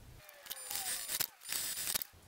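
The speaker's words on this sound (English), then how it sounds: "Then I'm just going to sew down each side with the seam allowance given in the pattern." A sewing machine stitches down the side seams of fabric pieces in short whirring bursts with brief pauses between runs, close and fairly quiet, with no voices.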